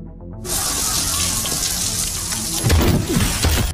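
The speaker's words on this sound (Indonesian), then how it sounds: "Kemudian, John mematikan keran shower di kamar mandi" After a brief quiet start, a bathroom shower gushes on full and pours steadily, loud and close, with splashing that thickens toward the end.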